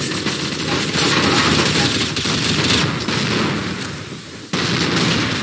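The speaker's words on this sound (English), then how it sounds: "Who's shooting behind me?" Dense rapid gunfire from Counter-Strike: Source on a zombie survival server, a loud continuous fusillade of overlapping shots with heavy bursts, steady throughout with a brief dip near the end before resuming.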